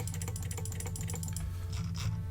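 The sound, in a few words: computer mouse clicking on game interface buttons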